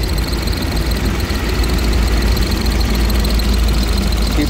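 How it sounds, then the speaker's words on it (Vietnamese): A 2016 Hyundai Grand i10 with a 1.0-litre three-cylinder Kappa engine idling, a steady, smooth low hum with a faint higher whine, close and continuous with no talking. "máy nổ khá là êm"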